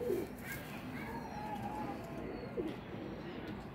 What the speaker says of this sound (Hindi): ये माशाल्लाह कबूतर है